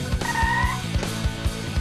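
A frog in the video game Sonic Adventure gives a run of quick, rhythmic croaks, close and fairly loud, repeating in short pulses.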